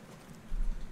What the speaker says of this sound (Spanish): aquí nos cierran el paso con los caballos